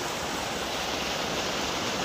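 Broad, steady rush of the Damodar river flowing, a continuous close wash of water noise with no breaks or voices.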